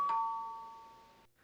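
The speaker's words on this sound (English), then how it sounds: "Was that my doorbell?" A single electronic doorbell chime rings clearly and then fades away slowly in a quiet room.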